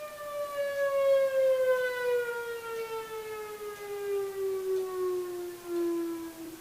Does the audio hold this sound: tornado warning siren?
yes